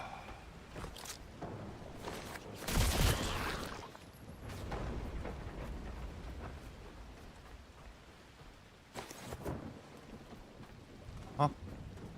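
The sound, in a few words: rain in The Last Caretaker video game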